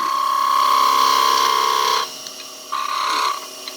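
A skew chisel chatters against a snowman shape spinning unsupported on a wood lathe, a steady high buzzing whine that cuts out abruptly midway, then returns briefly before stopping again.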